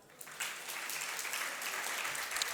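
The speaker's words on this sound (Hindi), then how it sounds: "जो प्रतिदिन पूजन अभिषेक करता है वो ताली बजाना" A crowd at a religious discourse bursts into applause after a short quiet start, a dense, moderately distant patter of clapping that continues steadily to the end.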